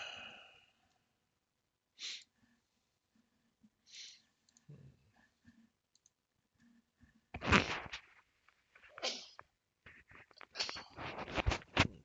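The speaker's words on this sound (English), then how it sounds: "Pardon me, I sneeze." One abrupt, close sneeze breaks through soft breathing, sniffs and scattered clicks, with quiet stretches around it.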